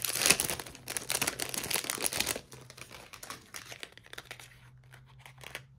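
Small earrings in plastic packaging are opened by hand, producing close, soft crinkling and rustling that is busiest at first and then thins to lighter crackles.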